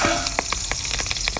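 Seafood such as fish and crab fries in a pan with a steady, dense sizzle. Small pops and crackles sound close up throughout.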